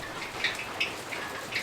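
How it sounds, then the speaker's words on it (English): Steady rain patters outdoors beside a pot of frying oil heated to 350 degrees for chicken wings, with a soft continuous hiss broken by a few sharper drop taps. "The rain slowed down a little bit."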